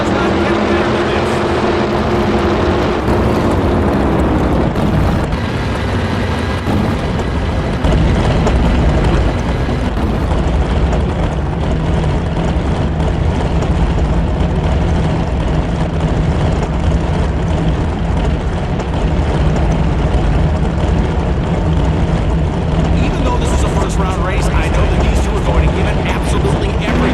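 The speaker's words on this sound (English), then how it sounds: "The roar of the engines firing up, the smell of the exhaust" Drag racing engines roar continuously in the NHRA Championship Drag Racing video game, a dense, loud, sustained engine drone that runs throughout, with a commentator speaking over it.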